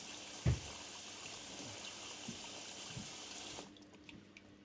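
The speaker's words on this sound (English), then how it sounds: "I heard running water" Water running steadily from a leaking stopcock joint, a constant nearby hiss like a flowing tap, with one low thump early on, before the flow sound cuts off near the end leaving faint drips.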